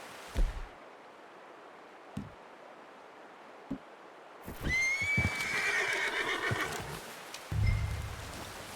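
A horse whinnies loudly in a long, wavering neigh in Red Dead Redemption 2, with a few thuds and hoof-like knocks before it and a low rumble at the end.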